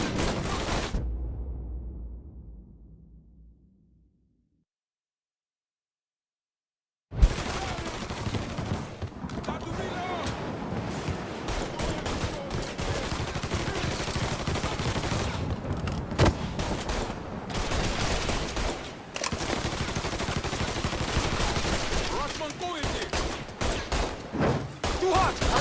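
Heavy gunfire in the crime action game Mafia 3, with dense bursts of shots and rapid automatic fire running continuously after a brief quiet stretch, loud and close, with shouting voices mixed in.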